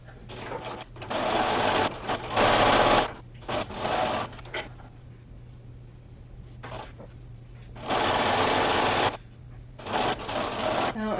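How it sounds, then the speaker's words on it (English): A sewing machine stitching swimsuit cover-up seams runs in loud, rapid bursts of mechanical whirring, pausing briefly between runs, close up with a faint low hum underneath. "Sew all these seams with a 1/4 inch seam allowance."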